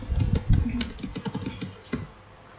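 Quick keystrokes on a computer keyboard, a close, dry flurry of taps in an uneven rhythm that trails off into a couple of final presses.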